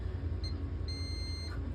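A multimeter gives a continuity beep on a slow-blow fuse: a faint, thin high tone, first a brief chirp and then a longer held beep, over a low steady background hum.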